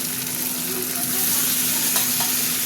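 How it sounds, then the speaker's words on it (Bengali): Chicken and tomatoes sizzling together in hot oil in a pan for a spicy chicken curry, a continuous close frying hiss with stirring clinks and scrapes. "চিকেন আর টমেটো দিয়ে ভাজা হবে"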